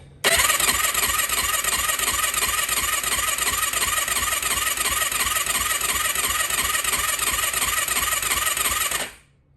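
A 2004 Yamaha YFZ450 ATV engine, just rebuilt with a new exhaust, fires up and runs at a loud, rapid, steady buzzing idle with a high whine for about nine seconds before cutting off abruptly.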